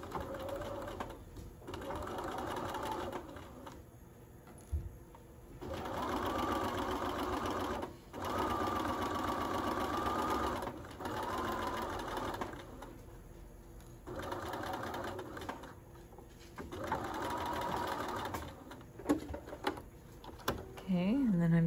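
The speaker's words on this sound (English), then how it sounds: "And we just wanna sew that 5/8. Make sure you backstitch." A sewing machine stitches a 5/8 seam on scrap fabric for a notched collar, running in close, steady bursts separated by short pauses as it backstitches and restarts.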